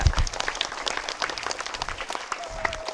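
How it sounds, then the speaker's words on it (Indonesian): Scattered applause from an elementary school audience at a Francis Day celebration, fairly faint and sparse with distinct individual claps and a brief tone near the end. "sekali lagi boleh tepuk tangan"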